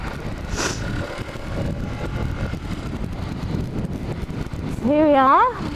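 A Ducati Monster 696 motorcycle is ridden on a cold day, its engine a steady low drone under heavy wind rush, with a voice speaking and a brief rising rev near the end.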